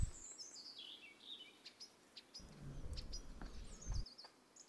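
Red-rumped swallows foraging for insects over Portuguese countryside give scattered high chirps and twittering calls, moderately near, over a low background hum, with no voices.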